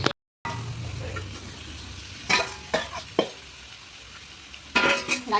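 Vegetable pitha cakes cooking on a stove: a quiet sizzle of frying runs throughout, broken by a few sharp clinks and scrapes of utensils against the pan.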